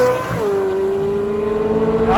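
A Chevrolet Corvette C8 Z06 engine screams at high RPM, a loud sustained mechanical wail that dips slightly then climbs again, heard close with no voices.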